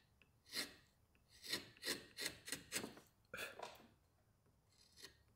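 A wood gouge carves a bevel on a wooden love spoon, making a series of quiet, close scraping strokes in an uneven rhythm, about nine cuts spread over five seconds.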